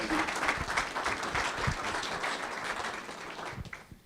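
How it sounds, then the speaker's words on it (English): An audience applauds to welcome a speaker at a community startup meeting, a dense burst of clapping that tapers off over a few seconds. "Let's give her a big round of applause."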